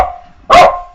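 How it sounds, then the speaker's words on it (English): A pet dog at home gives a single loud, close bark partway through, following a faint tonal hum in the quiet room. "that's my dog barking at my son"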